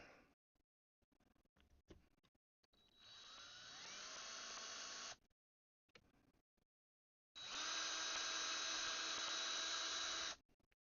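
A small power drill whirs in two sustained bursts, the second louder and steadier, with a few light clicks and taps in between.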